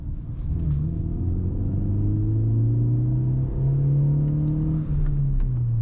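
A BMW E46 coupe accelerates in second gear on petrol. The engine drones loud and close, and its pitch climbs steadily across the pull with a brief dip near the end, with no voices.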